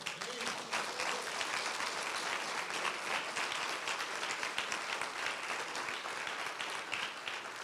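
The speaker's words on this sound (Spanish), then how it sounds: "Les denle un aplauso al Señor." A church congregation applauds, dense steady clapping filling the room evenly for several seconds, moderately distant and without voices on top.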